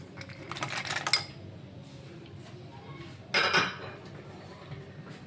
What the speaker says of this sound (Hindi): इसमें 1/2 कप काजू डालेंगे